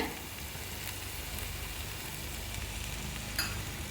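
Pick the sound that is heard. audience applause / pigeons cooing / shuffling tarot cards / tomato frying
tomato frying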